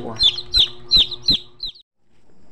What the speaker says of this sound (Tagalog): Meron pa yung 13 kabuok na sisiw.